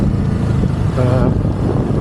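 Engine of a Kawasaki Ninja 7 HEV hybrid motorcycle idling while also drawing on battery power, a steady low rumble under broadband wind and road noise throughout, with a brief whining tone midway.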